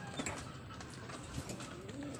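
Pigeons coo softly nearby, low murmuring calls over a steady outdoor background hum.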